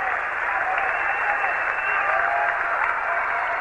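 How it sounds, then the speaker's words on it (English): A tennis crowd at a McEnroe versus Becker match gives a standing ovation, with dense, sustained applause that fills the whole moment at an even, loud level, with a commentator's voice faintly underneath. "Und applaudieren im Stehen."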